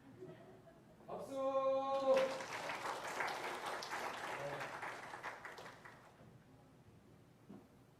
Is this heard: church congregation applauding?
yes